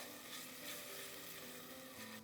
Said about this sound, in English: add the ginger garlic paste, add half the onions, let the onion go pink in color